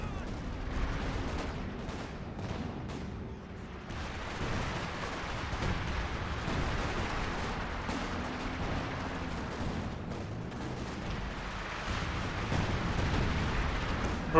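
A Stuka dive bomber opens fire in the video game Company of Heroes. Distant, muffled bursts of gunfire and explosions rumble on steadily through a busy battlefield soundscape for several seconds, with no clear talk.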